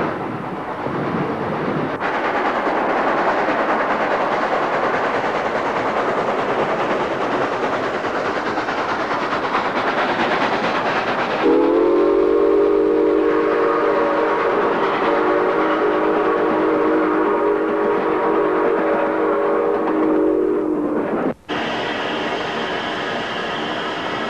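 A New York Central Hudson steam locomotive runs past with a loud, steady rolling rumble, then sounds one long, strong whistle blast lasting several seconds before the rumble carries on.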